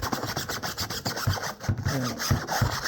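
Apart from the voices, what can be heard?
scrubbing the screen of a pool cleaner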